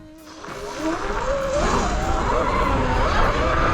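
An ERide Pro electric dirt bike is ridden: a rising electric motor whine with a rough, scrabbling tire and drivetrain noise that builds and holds steady, close and fairly loud.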